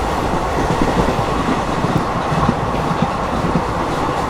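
Train on the Chennai to Rameshwaram route rumbles along the rails with a steady, loud rolling roar and faint rhythmic clatter of wheels, heard from inside the carriage.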